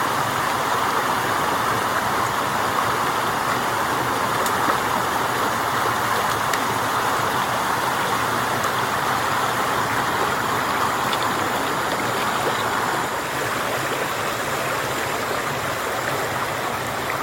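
Vehicle fording a creek crossing near an old homestead, a continuous loud rush of flowing water and splashing with a low engine rumble beneath, steady throughout with no talking.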